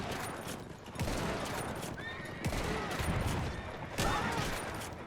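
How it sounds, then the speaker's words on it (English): Gunfire from a shotgun amid a cavalry charge in a World War One battle game, with several sharp blasts cutting through dense battle noise, horse whinnies and rumbling hooves, and a voice briefly audible. "Oh yeah, I brought out the shotgun for this."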